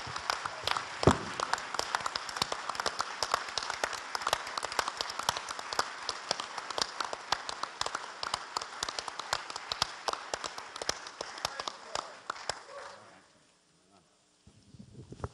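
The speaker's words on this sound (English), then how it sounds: "join with me by standing and applauding and showing our appreciation for these, our pastors" A church district assembly congregation stands and applauds its pastors, a long run of dense, sustained clapping that fades out near the end, leaving brief quiet and a few scattered sounds.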